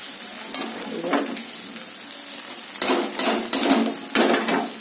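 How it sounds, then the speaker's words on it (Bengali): Rice being stirred and mixed with other ingredients in a hot pan, several bursts of scraping and sizzling in uneven strokes, close and moderately loud with no talking. "এবার সব দিয়ে ভালো করে মেশাবো।"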